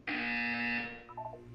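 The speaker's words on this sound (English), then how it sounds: "You will hear a buzzer." A harsh electronic buzzer from the video game Portal 2 sounds once, a loud tone lasting under a second before dropping to a fainter tail.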